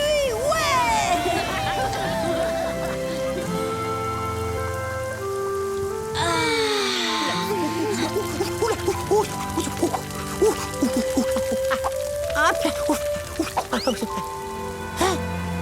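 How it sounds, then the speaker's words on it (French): Rain patters on a surface throughout, with voices and shifting tones over it and a brief louder burst midway. "La pluie, ouais."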